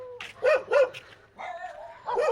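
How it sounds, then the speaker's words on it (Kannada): A dog barks twice in quick succession, then lets out further yelping, whining barks, fairly close and loud against a quiet background with a low hum. "ಯಾವುದು ನಾಯಿ ನನ್ನೇ ಬೊಗಳ್ತಾ ಇದ್ದಾರೆ."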